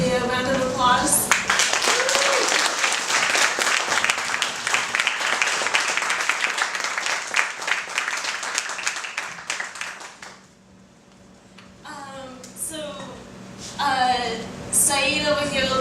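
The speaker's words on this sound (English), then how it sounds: "could y'all give our panelists a round of applause?" A meeting audience gives the panelists a round of applause, steady clapping for about ten seconds that then fades out as voices start talking.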